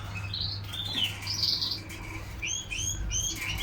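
Java sparrows, among them a young bird, give soft high chirps and short twittering calls in scattered bursts over a low steady hum, close by and with no talking.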